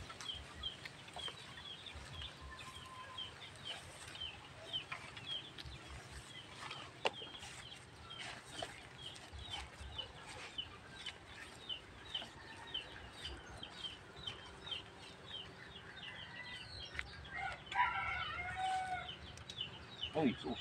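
Chickens cluck and chatter continuously nearby, with a rooster crowing in the distance and occasional soft thumps.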